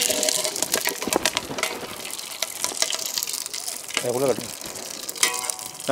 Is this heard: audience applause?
no